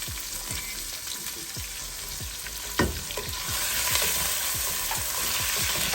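Cinnamon, cardamom, chopped onion and green chilli fry in oil in a pan with a loud, continuous close sizzle, a sharp crackling flare as the ingredients hit, and soft stirring throughout, without speech.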